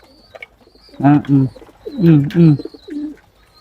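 Pigeons coo in soft, low, repeated phrases, a few close together, with faint chirping in the background.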